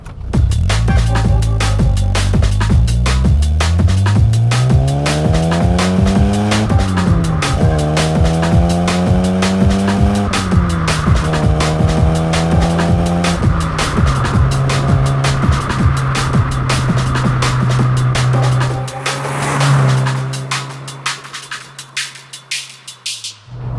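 A Mark III Ford Fiesta's engine revs up through several gears, pitch climbing and dropping at each shift, loud and close with road rumble, then eases off and idles down.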